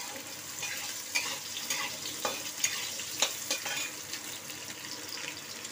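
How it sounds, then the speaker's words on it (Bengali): Potato pieces fry in oil in a pan for a Bengali potato, pointed gourd and soybean curry, giving a soft, steady sizzle broken by a few sharp scraping stirs, all quiet and close. "চলো আলুগুলোকে একটু লাল লাল করে ভেজে নিই"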